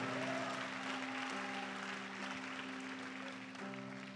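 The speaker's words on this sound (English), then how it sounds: "Clap like I'm preaching." A church congregation claps at a preaching service, a steady wash of applause that carries on for the whole stretch, with a sustained organ or keyboard chord ringing underneath.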